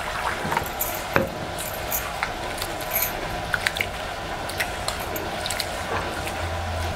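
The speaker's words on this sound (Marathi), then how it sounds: "बघा आता आपण ह्यामध्ये पाणी घालून हे स्वच्छ धुवून घ्यायचं आहे" Rice being washed by hand in a pot of water, with irregular wet swishes and small clicking, sloshing bursts of grains scattered across several seconds, close and fairly quiet.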